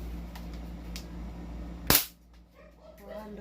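Single sharp airsoft rifle shot fired outdoors, a short loud crack standing out near the middle against steady background hum, followed by quieter ambience.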